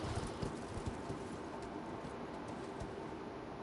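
Horse hooves clip-clop while riding in the Elden Ring video game, a faint, steady rhythm of soft thuds over low background ambience.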